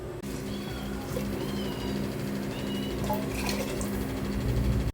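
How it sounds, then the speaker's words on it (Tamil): Water poured from a cup into a pot of soaked broken rice for nonbu kanchi, a steady continuous filling gush, close by and moderately loud, over a low background hum. "1 கப்பு அரிசிக்கு 4 கப்பு தண்ணி போடணும்."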